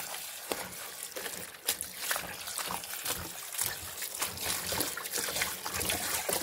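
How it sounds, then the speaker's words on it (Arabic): Tap water runs into a kitchen sink holding spinach leaves, a continuous trickling and splashing with small sloshes close to the microphone, steady throughout with no talk over it. "هنملى بقى كده الحوض عليها ميه اهو."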